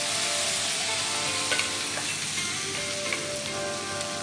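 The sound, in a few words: white wine added to sizzling rice and mushrooms in pan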